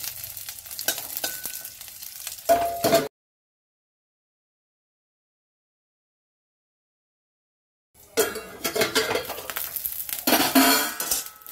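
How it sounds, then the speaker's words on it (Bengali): Garlic cloves frying in oil over low heat for garlic bharta, heard as a close sizzle with scraping and the clink of a utensil against the pan, cut by several seconds of total silence before the frying resumes. "রসুনগুলো সিম আঁচে ভাজতে হবে"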